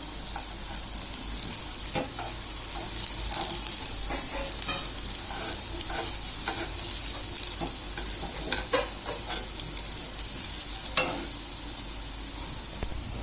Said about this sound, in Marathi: आता आपण दुसरी साइड सुद्धा फ्राय करून घेणार आहोत.